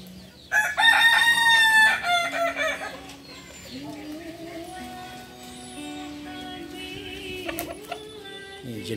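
A kukuak balenggek ornamental rooster from Solok, West Sumatra, crows close by, a long stepped call with a short cluck afterward, and faint talk with other fowl follows.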